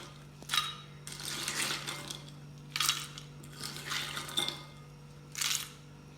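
Ice cubes clatter and clink into a mango panna drink with sugar in several separate bursts, with a steady low electrical hum underneath.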